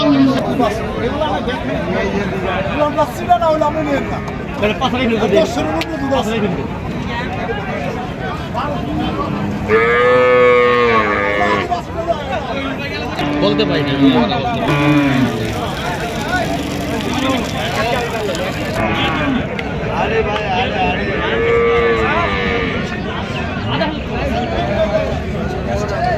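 Cattle at the Hazratpur cattle market in Dhaka district: several loud, drawn-out moos from animals nearby, rising over a constant hubbub of crowd chatter and people talking close by.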